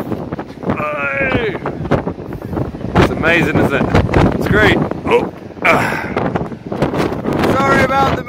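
Strong wind buffets the microphone on a high sea cliff at the Chasms on the Isle of Man, a steady rushing roar throughout with a person talking over it.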